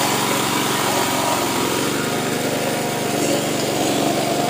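A self-propelled remote-controlled flail lawn mower runs with its engine loud and close, a continuous high buzzing drone of steady intensity.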